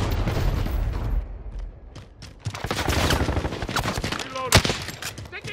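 Call of Duty Modern Warfare gameplay is full of dense, loud automatic gunfire with sharp individual shots and a heavy boom, continuous except for a brief lull near the two-second mark.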